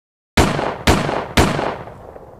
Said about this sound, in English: 3 gunshots rang out, sharp, merciless, final.